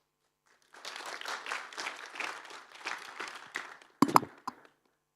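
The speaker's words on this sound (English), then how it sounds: "Big applause." Applause from a conference audience greets a panel moderator: a steady, moderately distant round of clapping lasting about three seconds, ending in a few sharp, close claps.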